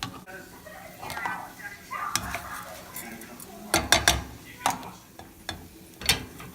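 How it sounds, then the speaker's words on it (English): A utensil scrapes and clinks against a pan as rice is stirred through oil for Mexican rice, a run of close metallic scrapes and sharp taps in uneven rhythm, with faint talk underneath. "stir it up real quick so all the oil soaks into the rice"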